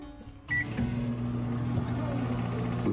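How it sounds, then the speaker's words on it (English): A microwave oven starts with a click and settles into a steady, fairly quiet hum that runs on without a break. "Time to put this in the microwave."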